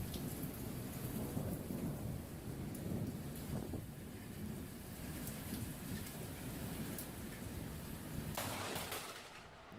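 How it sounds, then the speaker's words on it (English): Thunderstorm in Queensland with heavy rain pattering on surfaces and rumbling thunder, a dense continuous wash of rain throughout, fairly loud, with no talking. "a tourist decided to capture some lightning during a storm"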